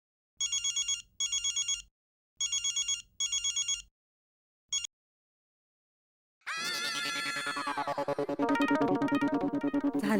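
A mobile phone ringtone plays in repeated short electronic bursts, cuts off, then gives way to a louder melodic ringtone tune that continues to the end, loud and close with no talking.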